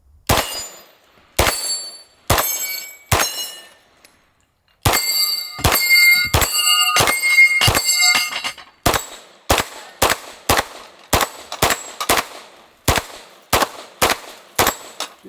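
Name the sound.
9mm gunshots hitting steel targets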